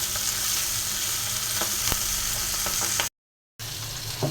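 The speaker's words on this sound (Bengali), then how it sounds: "আর এই যে এখানে মাছটা ভেজে নিচ্ছি, পাবদা মাছ।" Pabda fish fry in a pan of hot oil, giving a steady close crackling sizzle with small pops. The sound breaks off briefly near the end, then resumes.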